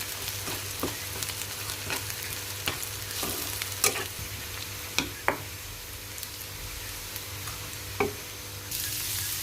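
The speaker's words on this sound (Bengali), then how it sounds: "পেঁয়াজটা ভালো করে ভেজে নিব একদম বেরেস্তার মতো করে ভেজে নিব" Steady oil sizzle of onions frying in a pan until crisp and browned, with a few scattered clinks and scrapes of stirring; no voices.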